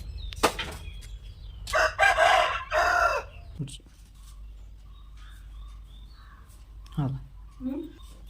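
A rooster crowing outdoors near a house, two loud calls close by early on, followed by quieter clucks and people talking nearby.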